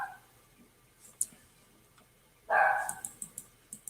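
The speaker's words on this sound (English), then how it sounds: "In the background, you're going to hear my little dog barking now." A small dog barks a few times in the background, one strong yelp followed by a string of short, fainter barks and clicks.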